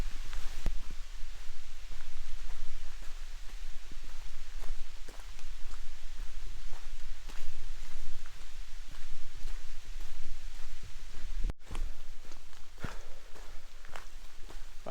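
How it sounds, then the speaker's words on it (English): Rain pattering on a tent during a wet camping trip, a steady close-up rustle broken by frequent sharp individual drop taps, with no talking. "the rain didn't get any worse"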